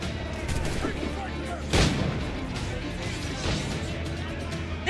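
Video game gunfire: dense, rumbling bursts of shots and blasts fill the whole stretch at steady loudness, with one sharper crack partway through.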